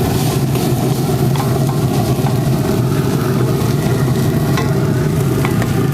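Garlic stirred into a hot pot, with a loud continuous sizzle and frying hiss throughout and faint scraping stirs under a steady low rumble.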